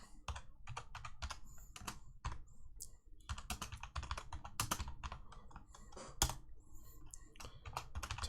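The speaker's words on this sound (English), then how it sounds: "type in your password" Fingers typing a password on a computer keyboard, a quick, uneven run of close, crisp key clicks with short pauses between bursts, with no voices over it.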